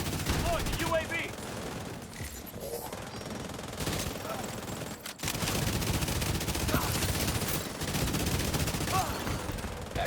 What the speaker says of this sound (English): AK with higher fire rate feels pretty weird still